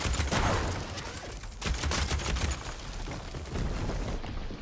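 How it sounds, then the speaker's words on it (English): Sustained gunfire in Horizon Forbidden West, dense and loud across the whole stretch, with booming low-end bursts and no talk. "I'm just going in for the machine gun."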